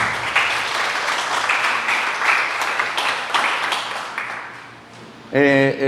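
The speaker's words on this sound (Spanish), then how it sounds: "dale un aplauso a Dios por eso" Church congregation claps in praise, a sustained burst of many hands that gradually tapers off, then a voice speaks loudly at the close.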